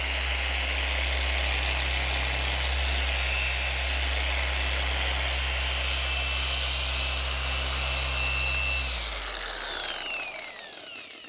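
A dual action machine polisher runs steadily at high speed with a loud, even whine and droning hum, then spins down near the end.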